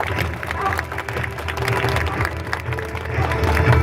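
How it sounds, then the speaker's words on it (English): Crowd applause at a sea lion show, scattered clapping mixed with murmuring voices and ambient outdoor noise, fairly loud and continuous, building a little toward the end. "how about we give him a little round of applause for that"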